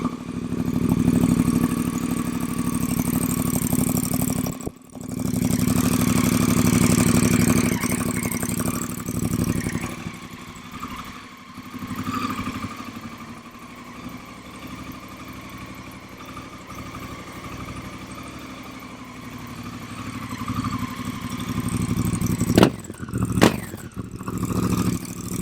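A Honda Africa Twin motorcycle, crash-damaged, starts on the first try and settles into a steady idle, its loud, close engine running continuously with a couple of brief dips and sharp bursts near the end.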